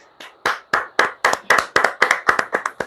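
Audience clapping at a book launch, a run of about a dozen distinct, evenly spaced claps close to the microphone, loud and crisp with no talk over them.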